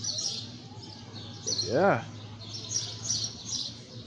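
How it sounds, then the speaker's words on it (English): Birds chirping outside a vacation rental balcony, repeated bright tweets in the background while a person talks briefly, with a low steady hum underneath. "Please excuse the birds for a second."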